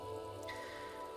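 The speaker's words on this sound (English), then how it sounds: "Exit Precinct 41 hunches in the rain." Steady rain falling over a city precinct building at night in the Disco Elysium video game, a soft even hiss of drops on surfaces with no voices.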